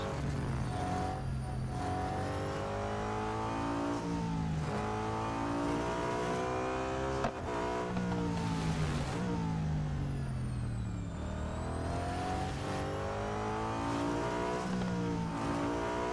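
Racing car engines in the Real Racing 3 autocross video game roar continuously, rising and falling through gear shifts as the revs sweep up and down, loud and steady throughout with no talking.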